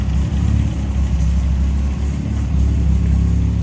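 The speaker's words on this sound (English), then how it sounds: "But look at how smooth that inline 4 is running." A 1965 Sunbeam Alpine Series IV's inline-four engine with twin Zenith carburetors runs smoothly at idle, a close, steady low hum with an even pulse and no talking.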